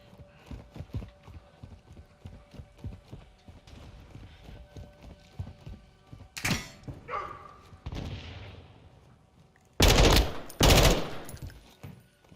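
Gunfire in a video game shooter, a couple of loud sharp shots and a heavy burst near the end, preceded by rhythmic clopping footsteps and clatter in the game.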